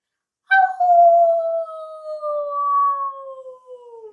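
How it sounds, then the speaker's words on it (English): A wolf howls once: a single loud, sustained, slowly falling note lasting several seconds, heard alone after a moment of silence. "It was a wolf."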